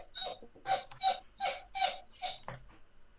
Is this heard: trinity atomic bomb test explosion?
no